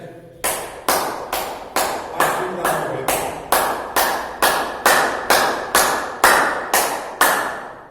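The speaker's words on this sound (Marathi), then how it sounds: "दोन्ही हाताची टाळी वर वाजवायची आहे." Hands clapping above the head during a yoga marching exercise, about sixteen sharp claps in an even, steady rhythm, close and clear.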